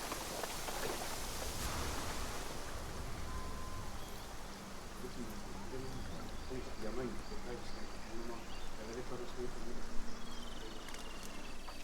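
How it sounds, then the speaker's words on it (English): A waterfall in the video game Assassin's Creed Shadows gives a steady, unbroken rushing roar of falling water, even and constant throughout without any clear talk. "The waterfall."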